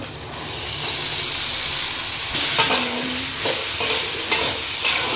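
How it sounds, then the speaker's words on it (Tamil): Chopped tomatoes sauté in a pan for a bean side dish, a continuous sizzle broken by several scraping stirs of a spatula against the pan, fairly close and loud. "தக்காளி எல்லாம் நல்லா வதங்கிச்சு இந்த ஸ்டேஜில் நம்ம வந்து பீன்ஸை சேர்த்துக்கலாம்"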